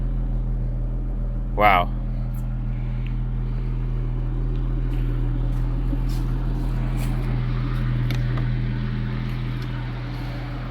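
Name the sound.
classic Jaguar XJS engine idling smoothly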